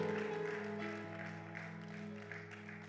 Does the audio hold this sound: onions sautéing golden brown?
no